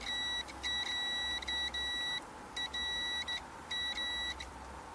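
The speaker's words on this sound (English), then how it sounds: "See, the beeping stops as I wiggle the cable around." Continuity meter checking a faulty cable beeps in steady electronic tones, sounding in several long stretches with brief cutouts as the cable is wiggled, then pausing and resuming.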